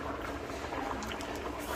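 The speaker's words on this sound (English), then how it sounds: "let me watch you pot here for the time. Bubbling up nice." A pot of pelau cooks over an open outdoor fire, bubbling steadily up close with a dense, continuous simmer of popping bubbles and no voices.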